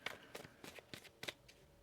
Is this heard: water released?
no